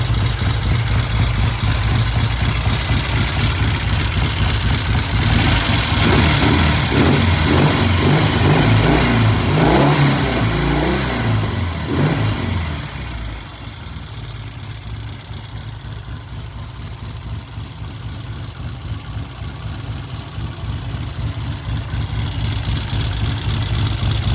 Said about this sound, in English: I will start it and check that idle